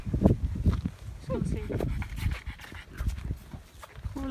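A dog on a farm panting in quick, rhythmic huffs close by, with footsteps shuffling and people talking over it.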